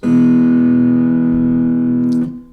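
A sustained, bright slide guitar chord in open E tuning rings steadily for a couple of seconds, then is cut short with a faint scrape of a finger on the strings.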